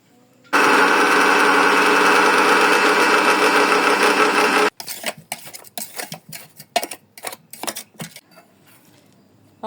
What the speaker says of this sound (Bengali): ব্লেন্ডারে আমি গুঁড়া করে নেব।